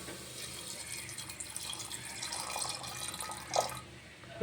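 Water pours steadily from a tap into a pressure cooker holding soaked peanuts, a continuous close splashing fill that swells briefly near the end.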